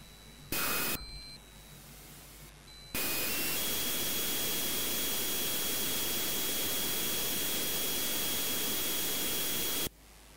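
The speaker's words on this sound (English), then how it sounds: "that was the engine sound that I've just disabled" A spaceship engine in the space game Frontier Elite 2 roars as a loud, steady hiss of noise after a few brief electronic beeps, holding for about seven seconds before cutting off abruptly.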